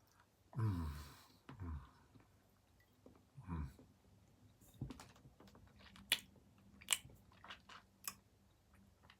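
Someone chews a bit of chocolate up close in a quiet room, making soft, sporadic crunches and wet mouth clicks, with an occasional breathy exhale between bites.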